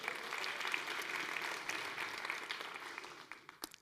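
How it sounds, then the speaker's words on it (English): Audience applause at a design conference on lettering and illustration: steady, dense clapping from a sizable crowd that holds evenly, then thins and fades out near the end, with a few last isolated claps. "Let's give him another round of applause."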